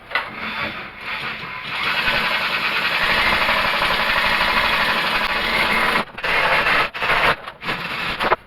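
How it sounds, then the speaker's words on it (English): A power drill turns a threaded rod in a garage, whirring loudly and steadily for several seconds, then stopping and starting in short bursts near the end, up close. "just put a drill on the end."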